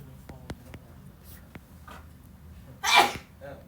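A single sharp sneeze bursts out in a classroom during an algebra lesson, loud and sudden, following scattered small clicks and taps.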